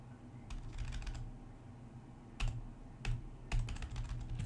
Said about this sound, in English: If I type in example.com